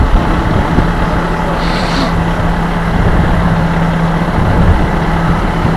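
A tow truck engine runs while the truck backs up at a magnet fishing spot. The diesel rumbles loudly and steadily, and a brief hiss near two seconds sounds like an air brake. No one speaks.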